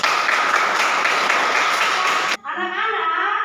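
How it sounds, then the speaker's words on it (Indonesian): Students in a classroom clapping their hands together, a dense burst of applause that stops abruptly, followed by a voice speaking. "Tepuk tangan untuk hari ini"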